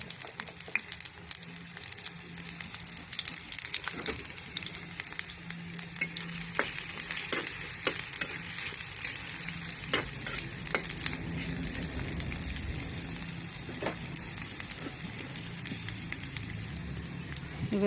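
Onion and green chili frying in oil for a dried fish and jackfruit seed dish, a continuous close sizzle with repeated spoon scrapes and stirring knocks against the pan.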